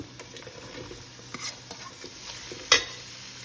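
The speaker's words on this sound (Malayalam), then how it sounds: "ഒരു പകുതി വഴറ്റിയെടുത്താൽ മതി ബീൻസ് ഇട്ട് കൊടുക്കാം" Green beans stir-fried in a pan for chicken fried rice, a steady soft sizzle with scraping stirs and a sharper clatter near the end, close and alone.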